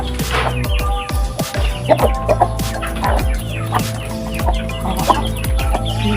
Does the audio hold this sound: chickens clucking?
yes